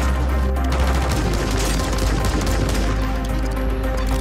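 Pistol gunfire in a Warzone match, a dense, loud stretch of rapid shots and crackling bursts that carries on steadily for the whole few seconds, with no talking.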